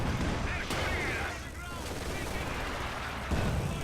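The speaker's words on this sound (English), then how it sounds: "we got some rockets coming in from the Panzerwerfer" A Panzerwerfer rocket barrage in Company of Heroes 2 pounds down in sharp explosive bursts among continuous battle gunfire, moderately loud and mixed with the game's war noise.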